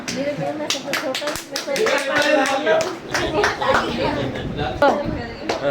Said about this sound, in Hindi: गाइस नीरज के लिए तालियां।